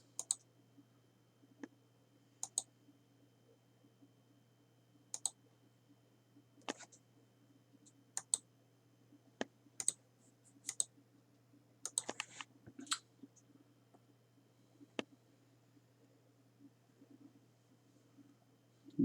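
Someone types on a computer keyboard in a quiet room, sparse clicks and short bursts of keystrokes spread irregularly over a low steady hum, faint and intermittent.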